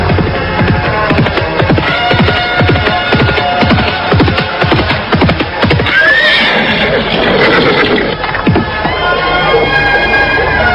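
A horse in a rural setting neighs loudly and close by, a long shrill whinny following a run of clip-clop hoof steps.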